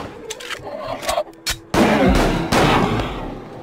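Gunshots rattle through a clinic level of the shooter game Unloved, scattered sharp bangs at first, then a loud dense barrage of rapid fire near the end with short pauses between bursts.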